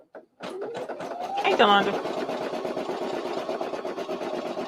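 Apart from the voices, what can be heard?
embroidery machine running a stitch around a denim zipper pouch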